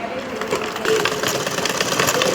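A sewing machine runs a brief, steady line of stitching, its motor whirring close and continuous for a couple of seconds.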